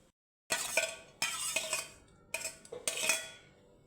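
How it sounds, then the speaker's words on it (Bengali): Chicken and egg are stirred into fried rice in a pan: four or five bursts of metal spatula scraping and clinking against the pan, separated by short pauses, close and clear with no talk. "চিকেনটা দিয়ে এটাও এবার ভালো করে মেশাবো"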